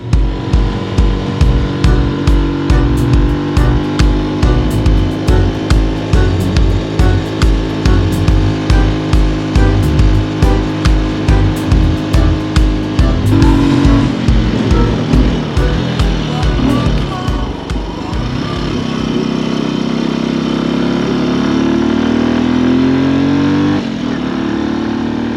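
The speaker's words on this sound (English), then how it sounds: "This is a 2021 Benelli TNT135. A little bike with a very big heart," A 2021 Benelli TNT135 small motorcycle engine runs with a rapid rhythmic thumping pulse and loud steady drone, then shifts to a smoother, rising rev toward the end, close to the microphone.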